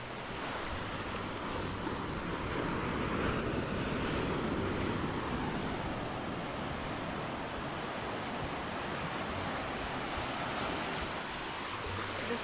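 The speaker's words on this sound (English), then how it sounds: "This beach isn't huge and it's not overly crowded." Surf rolling onto a small beach in Maui, Hawaii, heard as a steady broadband wash of waves mixed with wind noise, continuous and moderately distant, with no voices.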